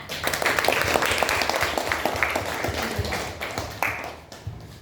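A class of students applauds during a lesson, a dense patter of clapping that starts loud and gradually thins and fades toward the end, with a few stray late claps.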